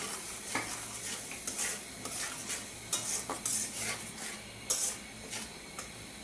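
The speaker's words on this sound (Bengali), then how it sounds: "মশলাটা আমি ভালো করে কষায়া তারপর চিংড়ি মাছগুলা দিব।" A blended paste of onion, green chili, mustard, ginger and garlic sautéing in a pan, with a soft sizzle under repeated scraping stirs and metallic spoon clinks against the pot.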